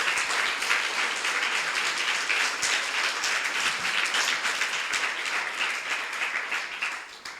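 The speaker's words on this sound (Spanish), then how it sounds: "Denle un aplauso al Señor para que despierten." A church congregation applauds during a sermon, a loud, continuous wash of many clapping hands that holds steady for about seven seconds before tapering slightly at the end.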